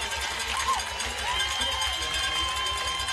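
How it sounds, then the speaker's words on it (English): A high school football crowd at a Cedar Cliff versus Red Land game cheering after a touchdown, a broad distant roar of voices with faint whistles and shouts blending together. "You hear the crowd."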